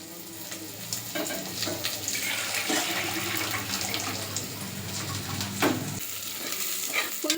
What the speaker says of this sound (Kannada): ಇದು ಇನ್ನೂ ಸ್ವಲ್ಪ ಚೆನ್ನಾಗಿ ಫ್ರೈ ಆಗಬೇಕು